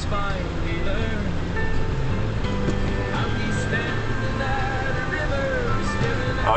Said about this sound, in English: going through the water, I'd say, whoa, it's deep